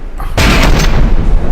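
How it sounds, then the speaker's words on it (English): A cannon on an ironclad ship in a video game fires with a sudden loud boom after a quiet moment, followed by a sustained roaring blast that rumbles on for over a second. "the explosion coming out of the cannon looks cool"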